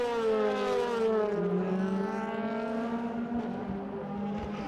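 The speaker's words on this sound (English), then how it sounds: "Here comes Ekström" A DTM race car at speed on the Hockenheim circuit in 2014, its engine note loud and sustained with a rising then falling pitch as it passes.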